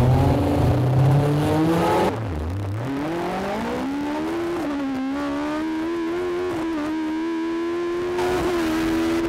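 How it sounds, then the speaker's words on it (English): A car held at about 5,000 revs snarls loudly, then the clutch drops and the engine bogs briefly before climbing steadily under load as it pulls away from a standstill, close and continuous. "once the clutch is loaded up sufficiently we'll then let it drop and we should get a clean getaway"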